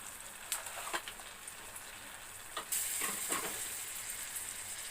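Cumin and shahjeera spices fry in hot oil with a steady sizzle and scattered crackling pops, plus a few stirring scrapes, close and moderately quiet.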